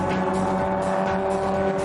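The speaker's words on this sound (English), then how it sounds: "It sounds like that old Jeep engine has had enough Grand Prix punishment." A junkyard-built Grand Prix race car with an old Jeep engine drones and strains as it loses power. The engine note is close, steady and buzzing, and its harmonic tone wavers slightly throughout.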